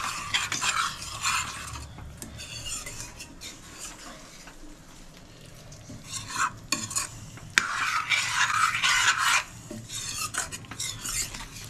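A spoon stirs a thick cashew and chhana paste in a pan, with bursts of soft sizzling and scraping that rise and fall, quieter in the middle, plus occasional clinks of metal.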